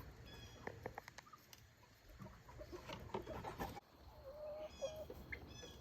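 Chickens cluck and chirp in short, irregular bursts on a homestead, fairly close, with a rooster's low clucks mixed among lighter peeps and faint scratching.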